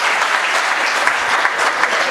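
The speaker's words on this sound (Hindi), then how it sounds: "अब थोड़ा जोर से ताली बजाना इसके बाद थोड़ी।" Audience clapping at a Hindi hasya kavi sammelan, dense and steady applause from a crowd with no speech over it.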